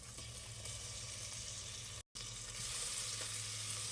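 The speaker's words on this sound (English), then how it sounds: "I'm gonna allow this to saute for about 3 minutes." Diced hot green chilies sauté in a pan for a spicy corn dip. A faint, steady sizzle runs throughout and drops out for a brief moment midway, with no voices.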